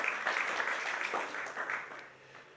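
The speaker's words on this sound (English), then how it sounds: "Those two also deserve a clap." An audience at a startup accelerator demo day claps, a short burst of scattered applause that gradually fades, no voices over it.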